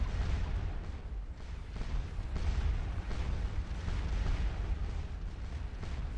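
Distant artillery fire in a Napoleonic Waterloo-era battle from Scourge of War Waterloo, a continuous low rumble of cannon booms rolling together under a steady roar, faint and far off.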